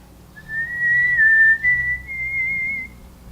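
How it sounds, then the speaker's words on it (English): A person whistles a slow tune indoors, a single clear sustained melody line with slight pitch glides, moderately loud and close against a faint room hum, no talking. "she strolled through the house whistling"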